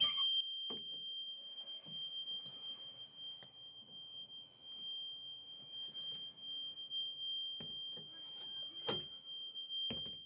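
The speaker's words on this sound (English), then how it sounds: "When I open it, the alarm will sound" A steady high-pitched electronic alarm tone from a bus emergency exit door sounds continuously, accompanied by scattered clunks and bumps of the door being handled nearby.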